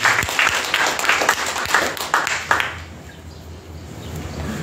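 A church congregation claps during a Sunday service: a loud, dense burst of applause with distinct sharp claps that ends abruptly after about three seconds, leaving quiet room tone.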